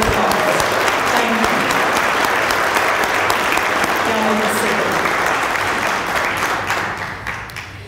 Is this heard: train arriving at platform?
no